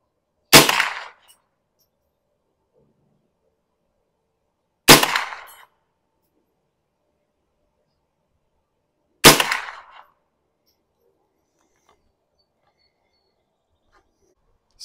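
Three rifle shots fired downrange at a paper target through an LPVO scope, each a sharp loud crack with a short decaying echo, spaced about four seconds apart with near silence between.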